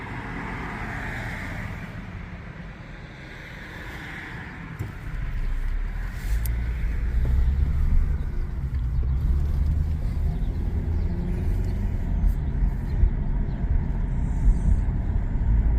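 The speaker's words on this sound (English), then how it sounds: "you can see the traffic. These are the people going down toward the Southern State Parkway" Cars passing along Merrick Avenue toward the Southern State Parkway, a steady low rumble of road traffic heard from a stopped vehicle, growing louder and closer after the first few seconds.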